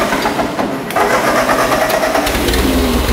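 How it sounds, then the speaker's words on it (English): A Ford tractor engine cranks, then catches and starts. Its loud, rough mechanical rumble fills the rest of the moment and settles into a steady running note close by. "So we'll go ahead and start the tractor."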